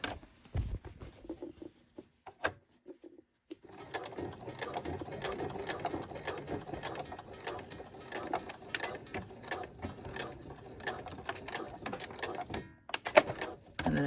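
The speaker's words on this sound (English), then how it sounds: "And then I do back stitch after I sew over where I've started, and then I do back stitch there." Sewing machine back stitching over the start of a seam on a sewing pattern project: short bursts of quick mechanical needle patter, pausing briefly, then a longer steady run of close, rhythmic stitching with small clicks.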